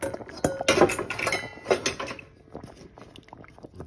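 Potatoes tumble into a pot of simmering fresh green beans in a home kitchen, a few clattering knocks and splashy thuds up close in the first two seconds, then softer bubbling and stirring sounds.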